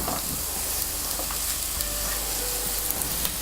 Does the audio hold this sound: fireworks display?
no